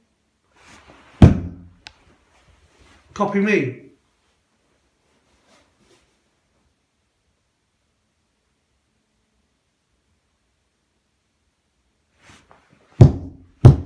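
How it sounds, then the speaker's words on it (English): Two sharp knocks on a ceiling in an abandoned farmhouse, one at the start and a double bang near the end, separated by a short spoken request and long silence. "As loud as you can you bang on the ceiling?"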